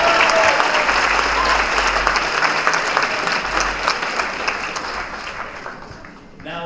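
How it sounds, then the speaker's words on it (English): Sustained audience applause fills an awards ceremony hall for a legal aid lawyer awards event, dense steady clapping from a large crowd that stays loud throughout before thinning slightly near the end. "So one round of applause for Kira again."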